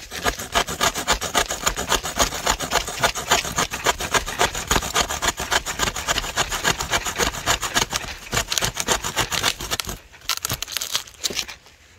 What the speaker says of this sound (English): It's a pretty nice little compact saw.